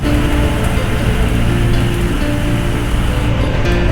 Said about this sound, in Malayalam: പെരും മഴയാണ് കേട്ടോ പുറത്ത്